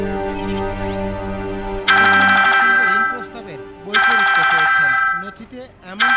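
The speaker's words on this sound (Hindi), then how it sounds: "ईश्वरी जी का फोन" A telephone ringtone trills in two loud electronic bursts in a home, with a television playing underneath and background voices between rings.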